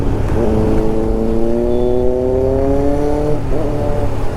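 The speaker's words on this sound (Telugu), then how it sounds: "ఏదో స్పోర్ట్స్ బైక్ వస్తుంది అనుకుంటా. ZX 6R అనుకుంటా." A high-revving Kawasaki ZX-6R sports motorcycle engine passes close by, its pitch climbing steadily as it accelerates, then dropping away near the end.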